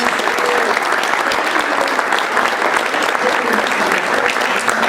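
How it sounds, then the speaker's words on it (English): An audience at a hospitality-industry health and wellness talk gives a dense, sustained round of applause, loud and steady for the full five seconds with no pauses or voices standing out. "Let's give them a big round of applause."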